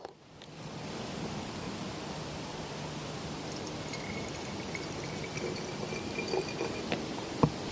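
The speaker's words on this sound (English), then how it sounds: "now I'm going to pour the finished tincture into the dropper bottle" Finished herbal tincture poured from a container into a small dropper bottle, a soft continuous trickle close by for several seconds with a few faint clinks toward the end.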